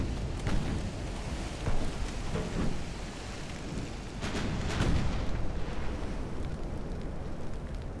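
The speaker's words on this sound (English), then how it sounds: "Good explosion there and a ricochet." Naval shell explosions rumble in dense, heavy bursts with deep booming impacts and crackling debris in Ultimate Admiral: Dreadnoughts, a warship battle game, loud and continuous with no talking.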